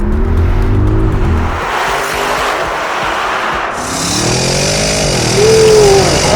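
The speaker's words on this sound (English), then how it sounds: "Hear that raw engine sound bouncing off the tunnel walls." An Audi RS Q8 with a 600-horsepower 4-litre twin-turbo V8 revs hard inside the Atal Tunnel, a loud, sustained roar that climbs and dips in pitch while reverberating off the walls.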